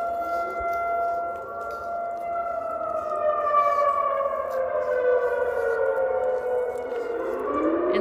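A siren wails in the distance with long rising and falling tones that overlap, steady and continuous over a low background rumble.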